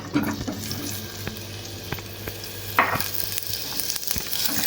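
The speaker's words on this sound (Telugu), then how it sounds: "నూనె వేడెక్కుతుంది కొంచెం నూనె వేసుకొని ఈ ముక్కలు వేసుకోవాలన్నమాట" Pieces of wood apple frying in a little hot oil, giving a steady, close sizzle with a few stirring scrapes and clicks, no talk.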